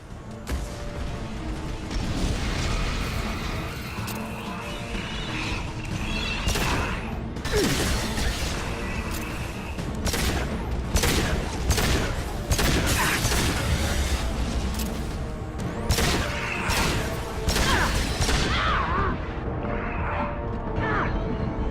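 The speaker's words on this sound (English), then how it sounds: "Firing into ship batteries and collector vessel." Gunfire in Mass Effect 2 strikes a collector vessel and its ship batteries, heard as a long run of heavy booming impacts, crashes and mechanical clanks. The blasts come in irregular clusters over a continuous low rumble.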